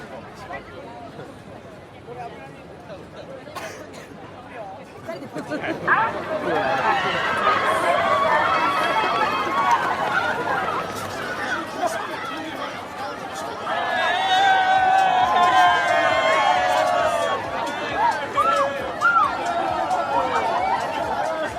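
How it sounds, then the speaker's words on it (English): Crowd at the Shibuya Scramble Crossing in Tokyo: a steady street murmur swells into loud mixed chatter and shouting from many people nearby, with a second surge of voices later on. "a postcard from the famous Shibuya Scramble Crossing in Tokyo, where people wait for the green sign to run into the middle of the street to cheer"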